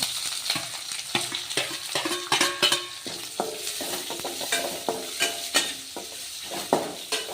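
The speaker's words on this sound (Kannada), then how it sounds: "ಈರುಳ್ಳಿ ಗೋಲ್ಡನ್ ಕಲರ್ ಬರೋವರೆಗೂ ಫ್ರೈ ಆದ್ವಲ್ಲ" Onion fries in hot oil with urad and chana dal for mint rice, sizzling steadily while a spoon repeatedly stirs and scrapes against the pan in quick, irregular clacks.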